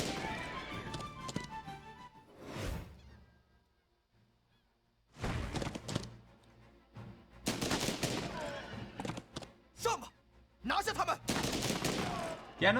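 Gun cavalry fire in the strategy game Banner of the Maid comes as bursts of crackling gunfire, a volley mid-clip followed by repeated sharp shots over game sound, after a quiet pause.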